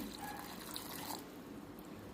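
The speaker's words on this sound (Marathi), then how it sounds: "पाणी ओतून घेऊया" Water poured into a pressure cooker container while boiling corn for a Marathi corn chaat recipe, a faint, steady splashing trickle that fades after about a second into quiet background hiss.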